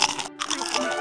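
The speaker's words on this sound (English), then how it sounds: "Just eating potato chips here." Potato chips crunch loudly and close up in a quick burst of crisp bites and chewing, with no talk over them.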